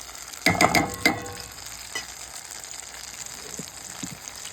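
Ground spices (turmeric, chili and coriander) stirred into hot oil for a coriander leaf chutney pickle. A few loud, close scraping stirs come early, then a quieter steady sizzle with occasional light clinks.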